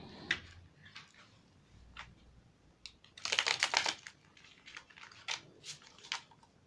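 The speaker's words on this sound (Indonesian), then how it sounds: "saya akan shuffle kartunya terlebih dahulu untuk siapakah yang diam-diam menyukai saya" Tarot cards shuffled close up, with soft irregular riffling and flicking taps and a denser burst of rapid card slaps in the middle, fairly quiet overall.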